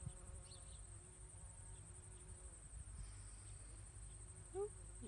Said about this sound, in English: Oh, we got a little bee.